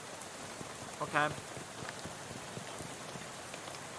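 Rain pouring steadily in the video game Shadows Over Loathing, a constant dense hiss of drops on a surface throughout, with one brief spoken word partway through.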